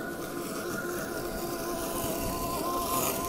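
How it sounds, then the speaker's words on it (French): A Sunseeker Elite X7 robot lawn mower runs its drive motors and cutting blades on a lawn, a quiet, steady whirring buzz heard close by without interruption. "On entend les moteurs, mais aussi les lames, et c'est tout."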